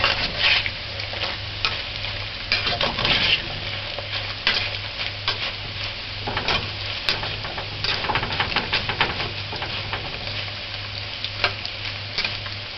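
Fish pieces frying in hot oil for fish and chips, a continuous busy sizzle and crackle with repeated clinks and scrapes as the pieces are turned, holding steady throughout with a low hum beneath.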